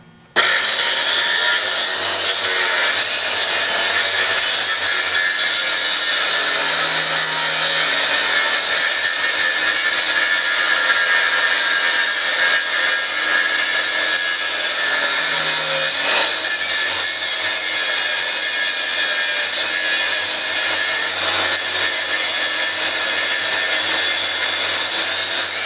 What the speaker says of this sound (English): I'm going to grind off the top of these pins on the shaft